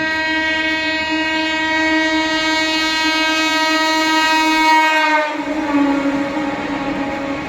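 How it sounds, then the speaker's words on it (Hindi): A passing train at Etawah Junction station sounds a long, loud, steady horn blast that cuts off abruptly, while rolling rail noise continues underneath. "ट्रेन को पड़ रहा है ओवरटेक यहाँ इटावा जंक्शन पे"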